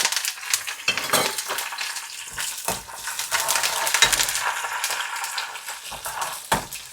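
Curry leaves crackling in hot oil for a homemade pickle, with bursts of sizzling and popping and metallic spoon stirs against the pan, close and fairly loud, no speech.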